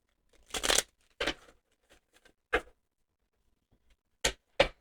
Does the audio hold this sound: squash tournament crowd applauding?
no